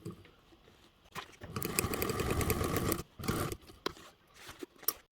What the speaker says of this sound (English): we are going to top stitch along that edge there